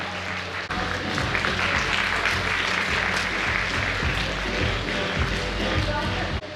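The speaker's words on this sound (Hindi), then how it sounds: "तालियों से स्वागत करें" Dense, sustained applause from an audience welcoming a guest at a school prize distribution ceremony in Khargone, filling the hall steadily from start to finish after a brief quieter moment at the start.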